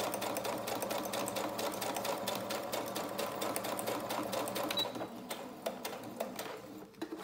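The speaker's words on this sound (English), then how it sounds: "So I'm just going to stitch that lace on." A sewing machine stitching lace onto a snippet roll, a rapid steady mechanical clatter near the microphone that eases slightly and turns uneven toward the end.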